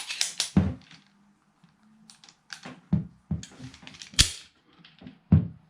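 Roth Steyr 1907 pistol dry-firing, a few sharp metallic clicks and clacks of the action spaced irregularly, close and fairly loud, with no talking.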